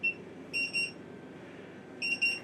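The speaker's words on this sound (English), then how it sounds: "we give them this little gizmo. And it's a buzzer. So when their order is ready, it buzzes" Small electronic order buzzer at a food truck beeping in short repeated high-pitched bursts, a pair of pulses, a pause, then another pair, clear over quiet background hum.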